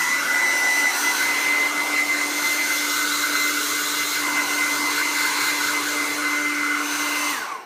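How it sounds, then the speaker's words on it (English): A hair dryer blowing on a kitten runs steadily and loudly from start to finish, a continuous whooshing roar with a faint high whine running underneath. "when blow drying your kitten"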